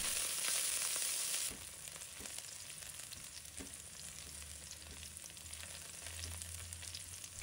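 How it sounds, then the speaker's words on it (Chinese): Scallion, ginger and garlic stir-fry in oil over low heat, making a faint, steady sizzle with occasional light ticks from stirring. "把切好的葱姜蒜放入锅中，小火慢慢的煸炒出香味"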